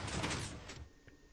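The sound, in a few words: door closing after a button press, from a video game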